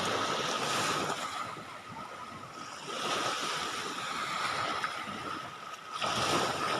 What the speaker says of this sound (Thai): ฟังเสียงคลื่นลมครับ